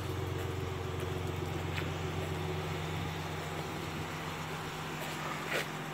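A 2018 Ford Raptor SVT idles through its dual exhaust, giving a quiet, steady low hum with a faint pulsing rhythm and a few small knocks over the top.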